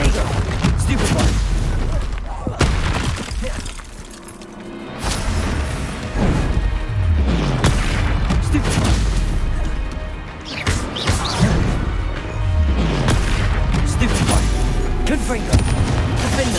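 Repeated loud blasts of the Confringo spell in the video game Hogwarts Legacy, heavy booming explosions and crashes in dense succession over battle noise, with a player shouting in between.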